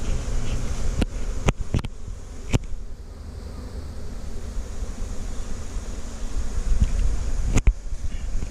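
Honey bees swarm around an open hive box while a super is being fitted, making a soft, continuous buzzing hum broken by a few sharp clicks and knocks of equipment.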